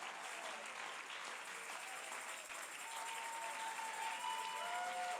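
A church congregation at an Easter service applauding to acclaim Jesus: sustained, even clapping from a large crowd that holds steady throughout and swells slightly toward the end.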